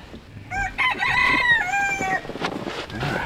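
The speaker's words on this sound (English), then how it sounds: "All right, chickies are doing good." Chickens cluck and a rooster crows loudly at close range in a backyard coop on a frigid snowy day, with several drawn-out crowing calls and clucks overlapping over about three seconds.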